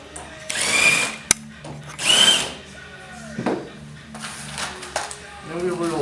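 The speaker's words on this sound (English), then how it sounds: "We'll be using a Vicks bit" A power drill fitted with a self-centering Vix bit bores pilot holes in wood for a corner cabinet, two loud whirring bursts near the start followed by quieter mechanical handling noises and speech.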